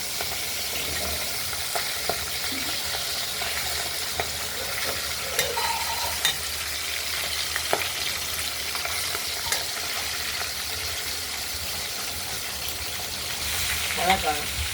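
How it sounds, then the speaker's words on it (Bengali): Pabda fish fry lightly in an oil-filled pan, a steady, dense sizzle running throughout, close and even, with occasional soft clinks of stirring and a few faint voices in the background. "এই মাছগুলোকে আমরা একটু হালকা ভাজাই করব।"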